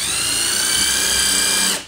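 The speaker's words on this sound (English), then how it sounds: "So what they'll do is they'll drill a hole in," A power drill bores a hole in a garage workshop, its high-pitched motor whine steady and loud from start to finish, then winding down at the very end with no talk over it.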